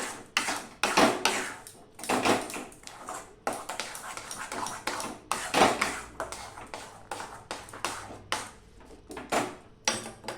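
A spoon works sugar into a thickening milk mixture in a pan for sondesh, scraping and clattering against the metal in repeated rhythmic strokes, fairly loud and close, with no talking.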